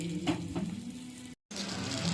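Steady oil sizzle from fish frying in a pan, close and continuous, with a brief cut to silence partway through before the frying resumes.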